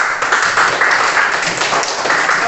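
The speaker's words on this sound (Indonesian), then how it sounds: "tepuk tangan untuk Iqbal" A group of classmates claps for a student in a classroom, a short dense burst of applause at steady loudness.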